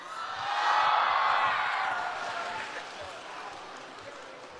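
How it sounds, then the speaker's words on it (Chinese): Thin, scattered applause from a theatre audience at a crosstalk comedy show, a brief patter of clapping that swells and then fades out. "谢谢大伙儿稀稀拉拉的掌声"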